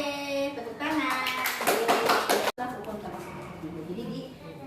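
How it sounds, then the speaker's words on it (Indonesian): Classroom of children clapping together after a lesson answer, a short burst of hand claps mixed with kids' voices and chatter, fairly close and moderately loud. "Oke, tepuk tangan."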